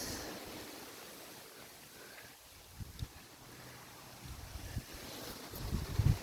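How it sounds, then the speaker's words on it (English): Strong hurricane wind roars as a constant broadband rush with microphone buffeting, rising in gusts toward the end, with no voices. "There's so much wind."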